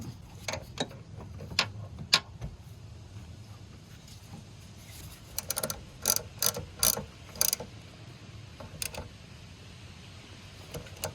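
A ratchet with a 13mm deep socket clicks in short bursts while tightening a bolt on a 2008-2012 Ford Escape V6 3.0L, sparse turns first and then a quicker run of cranks, close up with no talking.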